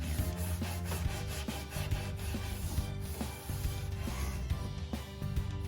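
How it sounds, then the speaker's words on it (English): A scuff pad rubs back and forth over a painted surface in steady, repeated abrasive strokes. The rasping is close and continuous, with no voices. "I run the Scuff Pad over it."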